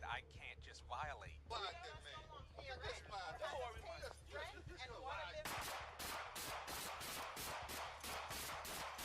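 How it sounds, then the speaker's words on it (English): Gunshots ring out in rapid succession, loud sharp cracks repeating in a steady burst after a stretch of tense talking voices, cutting off the exchange and continuing to the end. "the deafening sound of gunshots interrupt the exchange"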